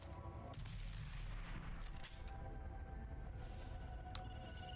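Doom weapon fired in a Starfield mod, heard as dense, loud gunfire-like blasts and booming over a continuous rumbling bed across the whole stretch, with no talking.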